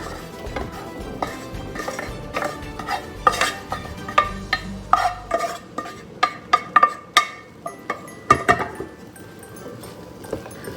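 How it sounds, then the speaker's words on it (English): Fried chanas are stirred into a masala in a pan with repeated scraping strokes and metallic clinks of the spoon against the pan over a soft sizzle. "And give this a good mix now."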